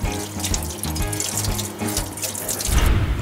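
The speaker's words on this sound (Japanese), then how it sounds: "ナックルちょっと簡単にですがささっと洗っていっちゃいたいと思います" Tap water runs steadily and loudly while a car steering knuckle from an Alto Works is washed, a continuous close splashing stream with no talk.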